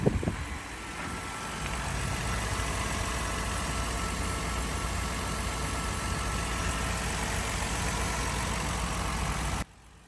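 A 3.5 liter V6 EcoBoost engine in a 2020 Ford Transit AWD box truck idles with a steady, even rumble for about nine seconds before stopping abruptly.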